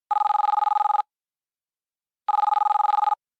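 A telephone line ringing after a number is dialed: two long electronic trilling rings separated by a pause of silence, loud and close with no talk.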